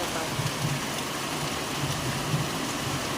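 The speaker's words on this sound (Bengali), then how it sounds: "দেখো কি জোরে জোরে বৃষ্টি হচ্ছে।" A heavy downpour falls outside a window during dark, stormy weather, making a dense and steady hiss of rain that runs unbroken throughout.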